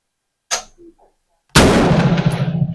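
An M4 rifle being fired while a green laser sight is zeroed outdoors, with a faint sharp crack followed a second later by a loud close report whose long rumbling echo trails off.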